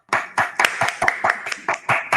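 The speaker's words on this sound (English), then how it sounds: "Can we give them a virtual clap?" A single person claps for panelists at a sustainable transport safety panel discussion, about nine close, fairly even hand claps in a steady rhythm with no other sound.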